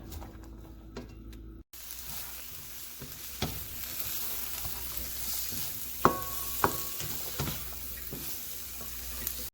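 Sliced garlic and diced onion sizzling in butter in a pan, a steady close frying hiss broken by a few sharp taps and scrapes of a stirring utensil, no voices.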